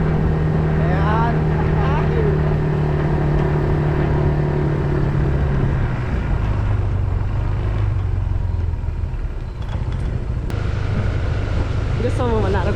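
A motorcycle engine drones steadily while riding, a loud, continuous rumble with shifting pitch as the ride goes on, and a voice is heard over it.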